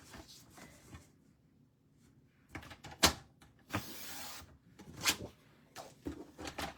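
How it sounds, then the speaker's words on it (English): Paper trimmer slicing cardstock for a stitched card, a few short sharp swishing cuts and sliding clicks close by, with quiet pauses in between and no talk. "So I'm just going to bring my trimmer, so 3 inches wide."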